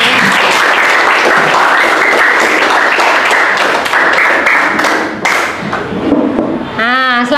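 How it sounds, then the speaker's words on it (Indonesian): Students in a school science classroom break into loud, sustained applause that fills the room, with scattered thumps and a voice rising near the end. "Tepuk tangan dulu untuk kita semua."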